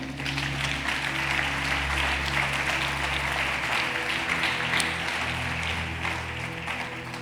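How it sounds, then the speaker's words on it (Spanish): A congregation claps together during a church sermon, a moderate, even wash of hands over a low sustained organ or keyboard tone, steady throughout. "Denle un aplauso al Señor."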